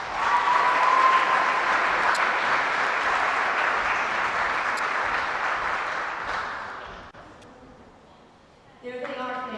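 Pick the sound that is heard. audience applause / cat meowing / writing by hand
audience applause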